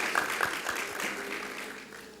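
Audience applause at a nursing pinning ceremony, a short burst of clapping from a crowd that fades out after about two seconds.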